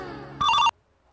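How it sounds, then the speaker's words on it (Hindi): A mobile phone rings indoors in a family home, a brief loud electronic ring burst that cuts in over a fading background tone and then stops abruptly into near silence. "मां कर फोन आ रले रे उठाइए ना"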